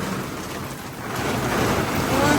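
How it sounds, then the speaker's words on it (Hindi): Heavy downpour with strong gusting wind during a violent storm, a dense, steady roar of rain and blowing air that swells slightly louder toward the end, with no voices. "फुल तेज़ बारिश शुरू हो गया"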